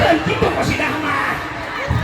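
Audience at a humorous Sundanese Islamic sermon breaks into a brief burst of cheering and shouting, a lively mixed crowd noise lasting a couple of seconds.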